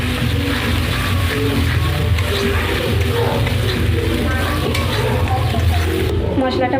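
Spice paste being sautéed in a pan for a Bengali prawn malai curry: a close, continuous sizzle and frying crackle with scraping and stirring noises, steady and fairly loud throughout.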